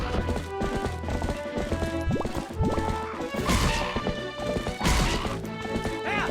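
Horse galloping and trampling enemies in Zelda: Twilight Princess, with loud, dense game audio of crashes, thuds and hoof impacts layered over steady background music throughout.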